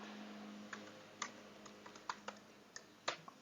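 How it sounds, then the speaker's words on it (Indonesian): Fingers type on a computer keyboard while writing a document: a quiet, irregular run of light key clicks, some louder taps near the end, close but faint with no speech. "Kita ketikkan dengan hormat."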